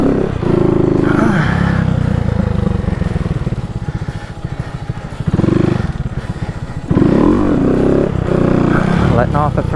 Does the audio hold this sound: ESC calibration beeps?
no